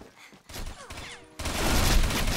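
Gunfire in the online shooter Combat Arms: scattered game sounds at first, then a sudden loud burst of sustained rapid shooting filling the last second.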